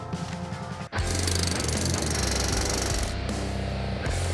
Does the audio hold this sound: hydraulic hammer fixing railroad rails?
yes